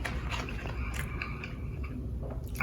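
Close, quiet biting and chewing of crunchy homemade pizza crust made from a Martha White mix, with a few crisp crunches over soft mouth sounds.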